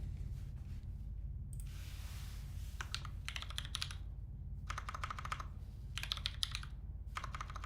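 Keys clatter on a custom-built mechanical keyboard in steady bursts of typing, broken by short pauses, close and clear over a low background hum.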